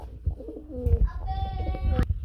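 Pigeons coo close by at a pigeon sale, low throaty burbling calls over a busy background of movement and faint voices, with a brief higher bird note near the end.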